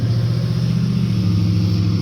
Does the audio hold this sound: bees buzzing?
no